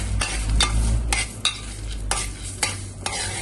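Red chillies and spices dry roasting in a pan, with a steady low hiss and crackle broken by about six sharp scraping stirs at a regular pace, heard close with no talking.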